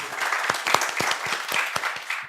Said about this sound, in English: So big applause by clapping your hands